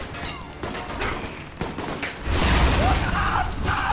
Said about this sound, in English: I'll just throw a grenade there.